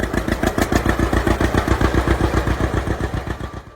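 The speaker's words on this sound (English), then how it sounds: "Number 7. The John Deere Model A." A John Deere Model A tractor engine runs steadily and loudly up close, a rhythmic, evenly spaced thumping idle that carries on for the whole stretch before cutting off abruptly at the end.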